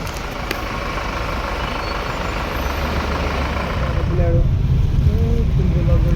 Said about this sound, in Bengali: পুরো জ্যাম লেগে গেছে এখানে